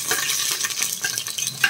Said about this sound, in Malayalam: നല്ല എണ്ണ നല്ലവണ്ണം തിളച്ചിട്ടുണ്ട്. നമുക്ക് ഇഞ്ചിയും വെളുത്തുള്ളി ഇട്ട് കൊടുക്കാം